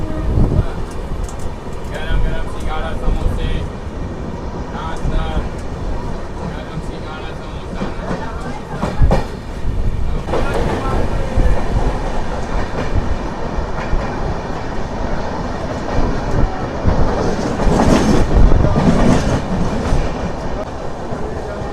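The Bokaro Express rumbles along the rails with a steady rolling roar and clattering wheels, heard from on board, while people talk throughout.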